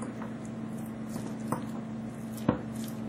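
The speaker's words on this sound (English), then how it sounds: "So you're just going to mash it and get it all nice and mixed together." A food mixture is mashed in a bowl, giving soft squishy pressing with a couple of sharper taps against the bowl over a steady low hum, with no talking.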